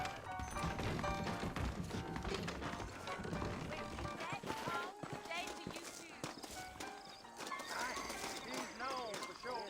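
Saddled horses in Red Dead Redemption clip-clopping at close range with steady hoofbeats, and a horse whinnying among them, while a voice talks over the hooves.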